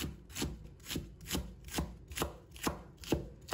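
A knife slices food into thin strips on a board. Eight evenly spaced, close chopping strokes fall in a steady rhythm, fairly soft, with no talking.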